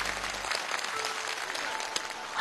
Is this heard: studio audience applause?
yes